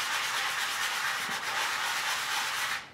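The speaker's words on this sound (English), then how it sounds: "it's time to sand these down smooth" A foam sanding block rubs steadily and briskly across a dented motorcycle gas tank on a Suzuki GS550 cafe racer, a continuous close scratchy hiss that fades at the very end.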